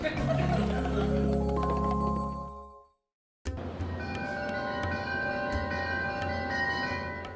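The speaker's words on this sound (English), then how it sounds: "Stacy, ring the chimes." Several bright chime tones ring out and sustain, fade into a brief silence, then a second set of chimes rings and lingers with soft tinkling overtones.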